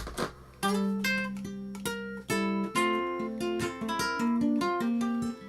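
A clean electric guitar plays a series of strummed chords and picked notes straight through an amplifier with no effects, clear and undistorted with no other sounds.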